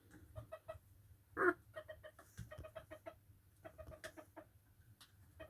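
Several chickens cluck in short repeated bursts throughout, with one louder squawk near the middle, set over a low steady background hum.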